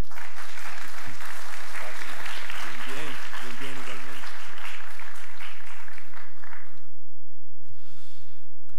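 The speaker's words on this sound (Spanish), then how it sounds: "Recibamos al profesor Trujillo con un aplauso" A conference audience gives sustained applause to a professor being welcomed, dense clapping near and loud for several seconds before fading, with a voice speaking briefly near the end.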